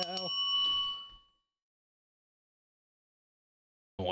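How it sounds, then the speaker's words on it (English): A bicycle-style bell rings with a bright, sustained metallic tone that decays over about a second, followed by silence. "Make me want to ring my bell."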